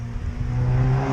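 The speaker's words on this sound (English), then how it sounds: "For a B20 full exhaust, it sounds amazing." A turbocharged B20-engined car with a full exhaust pulls away, its deep, droning exhaust note swelling steadily as it accelerates, with no talking.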